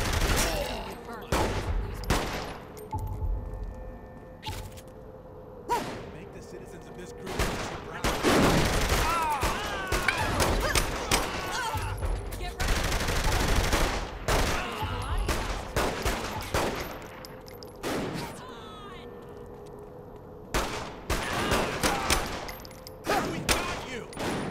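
Bursts of gunfire in a Saints Row video game gunfight, rapid volleys and machine-gun fire cracking repeatedly throughout, loud and close, with short pauses between shots and some game speech mixed in.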